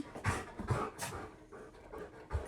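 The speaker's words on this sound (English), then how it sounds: "That's my other dog." A dog panting quickly and whimpering close by indoors, short breathy bursts with soft whines, quiet and unbroken by talk.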